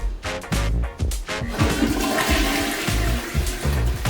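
A toilet flushes loudly up close in a public restroom at a market in Cambodia, a strong rushing jet of water that roars steadily and then swirls on for several seconds with no talking.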